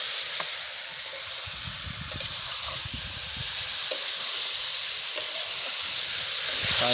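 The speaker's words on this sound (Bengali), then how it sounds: "বাঙালি চিকেন চলে গেছে কড়াইতে, এখন হচ্ছে রান্না" Chicken fries in a wok outdoors with a steady, close hiss of sizzling oil that crackles softly throughout and swells slightly toward the end.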